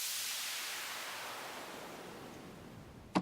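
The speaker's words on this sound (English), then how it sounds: "that's the first method to do a white noise riser" A broad white-noise riser with reverb, a wash that slowly thins and fades over a few seconds, ending in a short sharp click.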